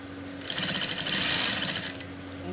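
A sewing machine runs in a steady rapid stitching burst for about a second and a half while sewing a bustier blouse, its fast mechanical rattle close and clear over faint background hum.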